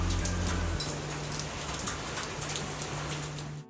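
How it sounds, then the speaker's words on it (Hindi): Rain falling outdoors on a rainy day, a dense steady hiss of drops pattering on surfaces, even and continuous throughout with no voices. "मुझे बारिश की आवाज़ बहुत ही पसंद है, तो थोड़ी सी आप लोग भी सुन लो."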